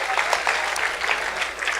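Audience applause at a community assembly, a dense burst of clapping from many hands, close and continuous with faint voices underneath.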